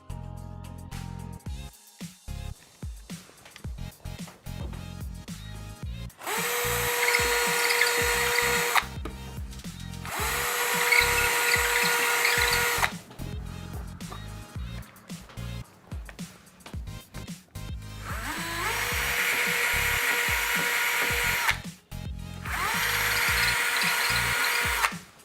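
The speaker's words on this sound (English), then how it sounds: "I've got a suitable masonry drill bit attached for this wall that I'm going to drill into" A cordless drill with a masonry bit grinds into a masonry wall in three sustained bursts of several seconds each, separated by quieter pauses with faint handling noise.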